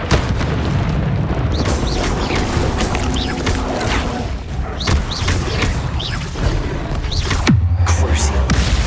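Confringo spell blasts in Hogwarts Legacy go off as repeated booming explosions and crashes. They sit over a loud, busy game soundscape with sharp bursts spread across the clip.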